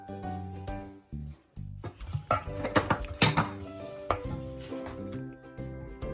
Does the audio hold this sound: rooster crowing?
no